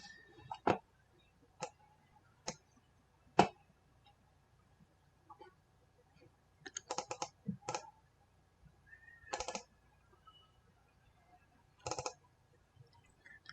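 Mouse clicks while working in Revit on a ventilation model: sharp, isolated single clicks at irregular intervals, then a few quick clustered bursts, close and fairly quiet against a low background hum.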